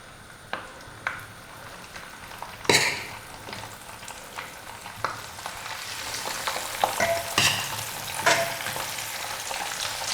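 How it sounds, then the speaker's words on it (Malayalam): Boiled beef pieces for a pickle fry in hot oil with a steady close sizzle, sharp crackles and pops scattered throughout, and the spitting growing denser and louder toward the end. "വേവിച്ച് വെച്ചിരിക്കുന്ന ബീഫ് ഇതിനകത്തോട്ട് ചേർത്ത് നന്നായിട്ടൊന്ന് വറുത്തെടുക്കാം"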